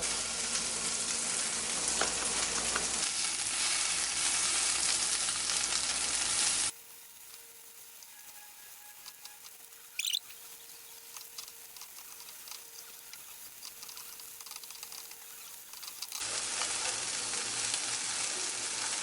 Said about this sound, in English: We're going to let the shrimp cook